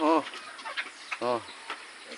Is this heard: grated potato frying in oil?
no